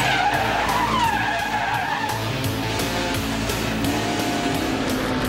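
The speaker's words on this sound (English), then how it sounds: "Last year's Spec Racer Ford race got off to a rough start with several cars coming together even before the start line" Spec Racer Ford race cars collide and skid at the start of a race, long loud tire squeals over a dense roar of engines that continues without letup.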